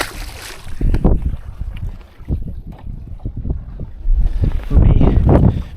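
Gusty wind buffeting a microphone on a bass fishing boat, rough low rumbling bursts that rise and fall, with someone talking over it at times.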